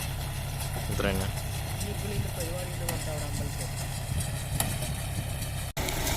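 A broken-down tractor engine idles steadily nearby during a repair, a low continuous rumble with a faint voice and some clatter over it.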